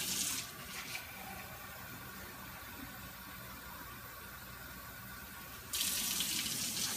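Tap water runs steadily into a measuring cup, filling it to cover chicken for cooking; the flow is close, continuous and even, then grows louder and harsher near the end.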